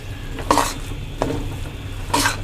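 Chana dal halwa being stirred in desi ghee in a pan, three distinct scraping strokes of the spoon at even intervals over a low, continuous sizzle.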